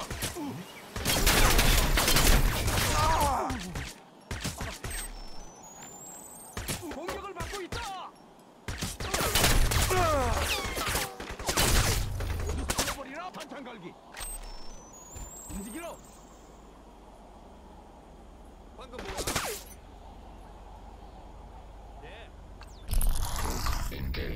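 Gunfire in Crysis Remastered, with bursts of shots crackling across several stretches, loud and near, mixed with game noise and someone talking over it.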